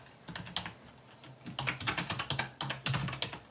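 Fingers type on a computer keyboard, entering login credentials into a web form. The keystrokes come as steady, close, fairly quiet clicks in quick irregular bursts, with no voice.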